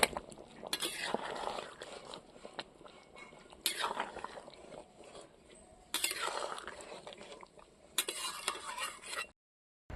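A spoon stirs fried garam masala through an Indian jackfruit and mud crab curry in a cooking pot, giving repeated scraping and clinking strokes over a faint sizzle, arriving in several close bursts about every two seconds.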